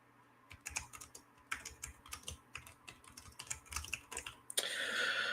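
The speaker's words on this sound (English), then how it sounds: "But you'll just have to listen to me typing." Quick irregular clicking of a computer keyboard being typed on nearby, soft and steady, ending in a sudden rush of broadband noise.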